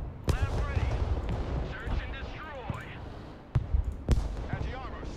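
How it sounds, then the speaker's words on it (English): Artillery fire in the video game Broken Arrow: several sharp booming impacts, some layered over a busy battle mix with voices talking underneath, and a couple of heavy, louder blasts near the end. "Goddamn artillery."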